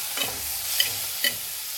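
Tomatoes roast in a dry pan with no oil for a spicy okra thecha, giving a soft steady sizzle broken by a few brief stirring scrapes and clinks.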